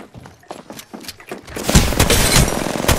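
Video game gunfire in a squad match crackles in rapid bursts, sparse sharp shots at first building into a dense, loud barrage of overlapping reports.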